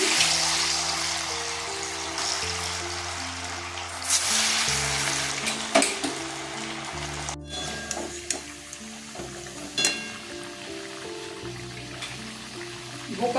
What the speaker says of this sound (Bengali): আমি রিফাইন অয়েলে ধোকাগুলো ভেজে নেব